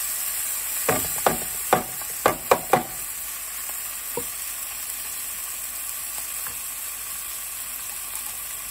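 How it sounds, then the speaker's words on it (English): Onions added to hot oil with roasted cumin seeds, giving a steady close sizzle and hiss with several sharp clatters of a utensil near the start, then a few softer taps. "To that I'm gonna add some onions."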